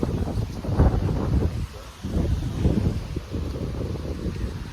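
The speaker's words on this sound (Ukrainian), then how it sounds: "Я сподіваюся, мене чути, вітер такий." Strong wind buffets the microphone in heavy, uneven rumbling gusts that roar loudly and then briefly ease before picking up again, outdoors while riding quad bikes.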